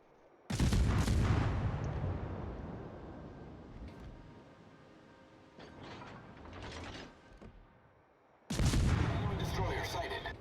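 Warship guns firing in the naval battle game World of Warships, heavy booming salvos at the start and again near the end, with quieter rumbling shots between them.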